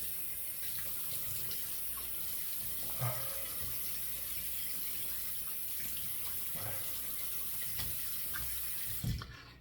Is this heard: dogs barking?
no